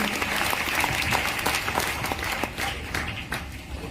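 Audience at a Hindi-language RCM business program applauds new members, a steady wash of clapping held for about four seconds before easing off slightly.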